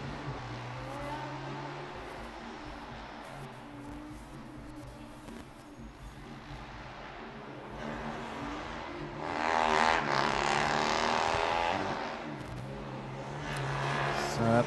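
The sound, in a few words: Formula Student race car driving a lap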